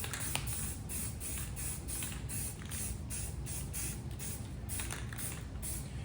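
A coat of primer is sprayed onto a Volkswagen Beetle floor pan. A continuous, close spray hiss is broken by brief pulses as the spraying stops and starts.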